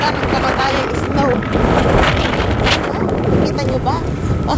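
Strong gusting wind during a spring snowstorm, loud and continuous across the microphone, roaring broadband with constant buffeting; a voice speaks briefly underneath.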